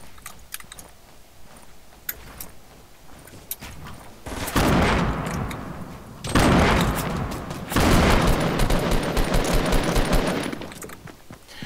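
Gunfire erupts in a Fortnite match, with pump shotgun blasts and a dense barrage of shots arriving in three loud, sustained bursts after a quieter opening of faint game noise.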